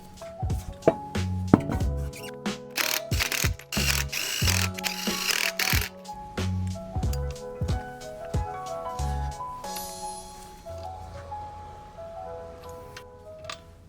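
A ratchet tightens the wheel nuts on a 2020 Infiniti QX50 during a brake pad replacement: rapid close clicking runs in repeated bursts with brief gaps, loud and dry, and some knocks and shuffling sounds come between the runs.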